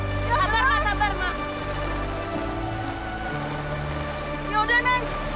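Steady rain falls outdoors, pattering continuously on surfaces while people talk over it in short bursts.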